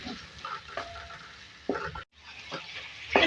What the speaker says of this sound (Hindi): अब इसको जो है भून लेके टमाटर डालिए।